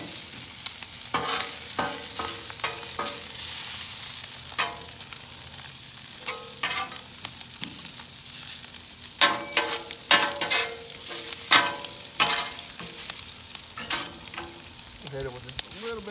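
Onions fry and caramelize on a Blackstone griddle with a steady close sizzle. A metal spatula scrapes and taps across the flat top again and again in irregular strokes, and no one speaks.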